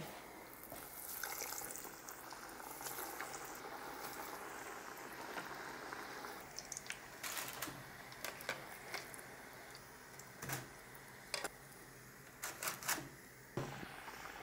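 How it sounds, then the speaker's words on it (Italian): Homemade sofficini frying in hot oil give a steady, soft sizzle, with occasional sharp crackles and pops that grow more frequent toward the end. "continuiamoli a friggere tutti quanti"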